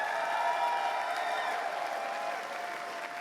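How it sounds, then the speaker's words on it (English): A convention crowd at an opening ceremony applauds its staff, steady dense clapping from many hands that holds level and tapers slightly toward the end, with faint voices mixed in. "I would love if you all gave a huge round of applause to the over 300 staff members"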